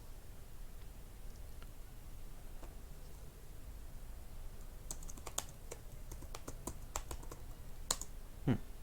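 Keys on a computer keyboard tap out a short burst of typing into Notepad, a close, quick cluster of clicks rising over a faint steady hiss after several quiet seconds.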